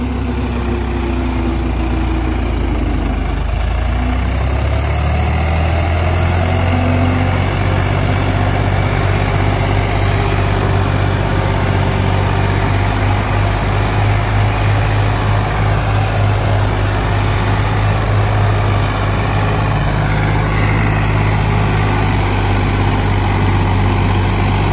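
A Swraj 742 XT tractor with an 8-foot rotavator attached runs at a steady, low idle-like rumble, loud and close, continuous throughout with no voices.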